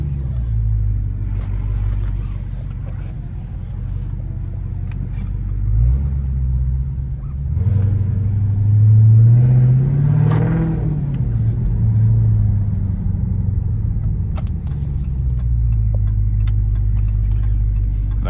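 Dodge Hellcat engine rumbling low and steady on a late night drive, swelling into a louder rev midway before settling back to a cruising drone.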